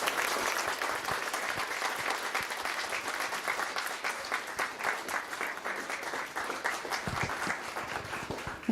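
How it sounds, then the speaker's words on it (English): An audience applauds steadily at a live school event, a dense wash of many hands clapping at moderate distance, fairly soft, with no voices over it. "once again, a huge round of applause for Preeti."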